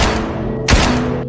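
Pistol gunshot sound effect, a dense booming crack layered over a rumbling background, loud and close, with a single heavy thump standing out midway.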